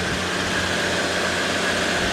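An old, original-condition car idles with a steady, even engine hum and a faint low rumble, heard alone with no talking.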